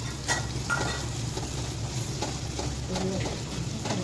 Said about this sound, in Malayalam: നമുക്ക് പച്ചമണം മാറണ വരെ തന്നെ ഇളക്കി കൊടുക്കാം